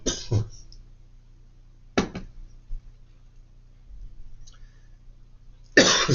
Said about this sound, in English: So when I start coughing